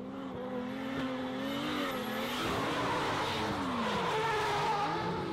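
Drift cars at the EEDC East European drift championship in Belarus, with continuous engine roar rising and falling across the run and tire skidding noise, loud and steady throughout with no talk.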